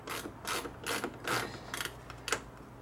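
A hand ratchet runs bolts into nylock nuts while an electric vacuum pump is installed on a Ford F150, making several rapid clicking pawl bursts in quick succession, close and distinct.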